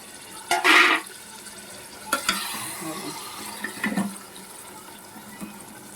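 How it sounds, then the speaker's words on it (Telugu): Masala water is poured into a pot of mutton and drumstick curry in a short splashing gush, followed by quieter clinks and stirring sounds nearby. "ఈ మసాలా వాటర్ వేసేద్దాం."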